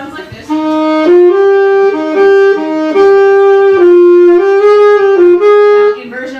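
A sustained melodic instrument or voice plays a short tune, held clear pitches that step between a few notes in a slow phrase that repeats, loud and close with no talk over it.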